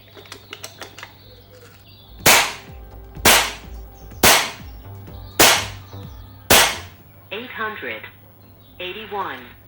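An Air Venturi air gun fires slugs in five sharp, loud cracks spaced about a second apart, preceded by light mechanical clicks, with someone speaking briefly at the end.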